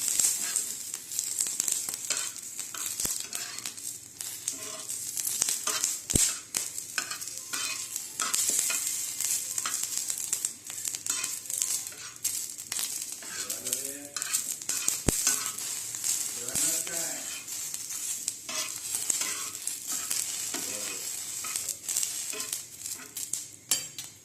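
Oil sizzles continuously in a pan for chilli kharda, a dense close crackle joined by frequent spatula stirring and scraping strokes, with no voices.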